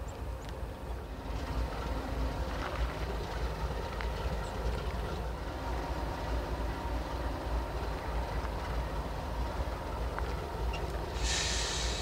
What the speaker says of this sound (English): this rock train came off the Oklahoma City sub and turned south